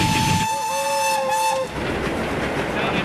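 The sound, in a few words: train entering a tunnel on preserved railway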